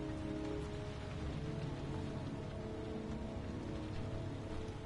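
Heavy rain falls steadily on surfaces, a dense unbroken hiss with pattering drops at constant loudness and no voices.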